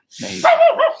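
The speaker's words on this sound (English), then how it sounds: "excuse the barking." A single sharp poodle bark, close and loud, with a quick tonal yelp trailing into a brief whine.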